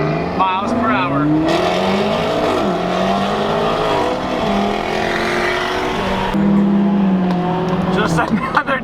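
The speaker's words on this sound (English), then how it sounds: "This is going to be an acceleration from 0 to 55 miles per hour." Koenigsegg sports car accelerating hard from a standstill, its engine note climbing through rising revs and gear shifts, loud and close, with a voice talking over it.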